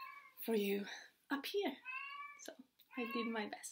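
A cat meows several times indoors, close and loud, its cries mixed with and overlapping someone talking.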